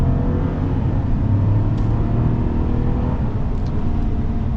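A lifted Chevy Trail Boss pickup with a 5.3 V8 accelerates hard, its steady loud engine drone and low rumble holding throughout, heard from inside the cab with no talking.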